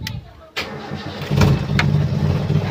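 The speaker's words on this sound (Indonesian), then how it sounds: "Kita hidupkan lagi mobilnya" A Toyota Kijang 7K engine is cranked after a sensor socket is refitted: a short starter whir, then the motor catches and settles into a rough, steady idle, close by, with faint voices in the background.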